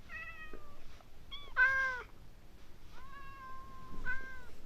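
A string of video game cat meows from a Minecraft cat village, a few separate calls with short gaps between them, one louder and sharper than the rest, heard alone without voices.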